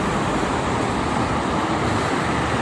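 Container trucks and dump trucks heading west on the Jakarta–Cikampek toll road on a bright morning, a loud, continuous broadband roar of heavy traffic with deep engine rumble and no voices.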